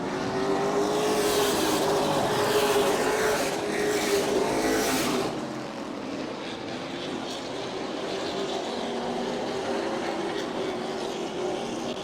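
Race cars roaring around the Auburndale track during a weekly race, engines loud and close as they sweep past, then fading to a more distant, continuous drone of cars further around the circuit.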